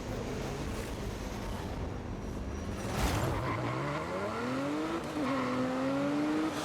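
A car engine in the open-world racing game Forza Horizon 5 growls steadily, revving up in rising pitch sweeps with a hint of tire squeal, loud and continuous throughout.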